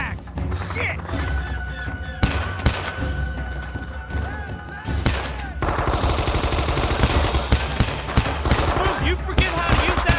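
Rifle and machine gun fire crackles through a firefight in Men of Valor, with bursts of rapid shots, heavy thuds and dense overlapping gunfire that grows louder and more constant, while voices shout over it.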